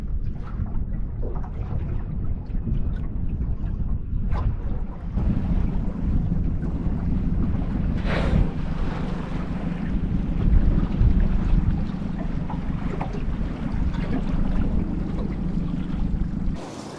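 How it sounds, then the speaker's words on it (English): Onshore wind buffeting the microphone aboard a small fishing boat near a reef, a loud, continuous low rumble with gusty swells and a faint wash of water underneath. "Wind's come up onshore now."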